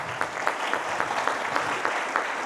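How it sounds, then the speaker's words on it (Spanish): A small church audience at a Catholic Bible and apologetics class applauds steadily, a soft, even patter of clapping throughout, heard from a distance. "Un aplauso para ellos."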